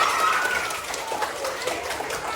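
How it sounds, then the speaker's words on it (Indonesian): Classroom students clap together, a dense, steady patter of many hands filling the room with a few voices mixed in. "Oke, tepuk tangan untuk kalian semua."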